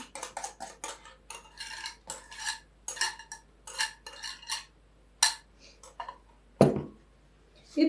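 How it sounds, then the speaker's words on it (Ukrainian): A sour cream mixture stirred in a bowl, quick irregular clinks and taps of a spoon against the bowl, close and clear in a quiet room, ending with a heavier knock. "Можна ще так трішки перемішати."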